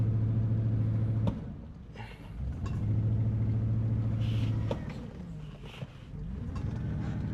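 An abandoned Hummer limousine strains while backing up, its engine droning low and rough, surging and dipping in steady waves at close range.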